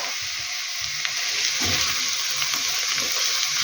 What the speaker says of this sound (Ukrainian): Перемішаю і хай ще трошки протушиться морква.